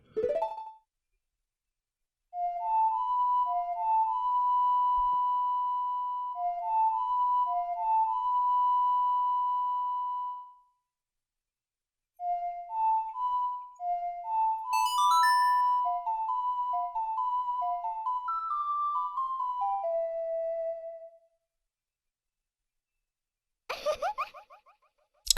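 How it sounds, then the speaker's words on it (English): A short ocarina melody from The Legend of Zelda: Ocarina of Time plays as clear pure tones in two phrases separated by a pause, followed by a brief chime at the end. "try to follow along with the melody I'll play"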